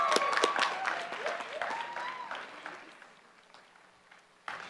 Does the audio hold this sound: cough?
no